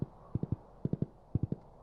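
Hooves of a horse clip-clop in the Stardew Valley video game, three quick groups of three crisp, close hits in an even, trotting rhythm over a quiet background.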